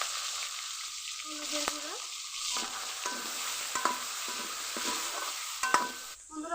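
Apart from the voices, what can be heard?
small crabs frying in pan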